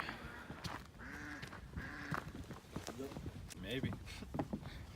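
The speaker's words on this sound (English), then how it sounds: "Oh, a duck." Duck quacking several times in short nasal calls outdoors near water in a backyard, close by and mixed with footsteps and people talking.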